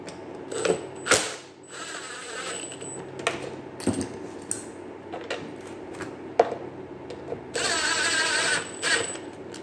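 Hex head screws being tightened on a leaf blower with low compression, heard as a close run of clicks, ratcheting and short whirring bursts from a small driver, with a longer steady whir near the end.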